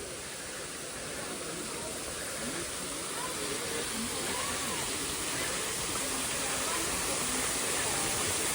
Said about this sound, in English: It's definitely some waterfall type feature.